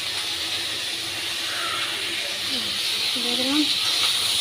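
Chopped tomatoes sizzle in hot oil in a pan over a low flame, a steady close hiss running throughout while a voice speaks briefly over it.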